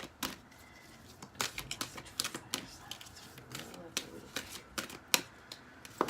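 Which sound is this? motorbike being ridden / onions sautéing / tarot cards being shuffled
tarot cards being shuffled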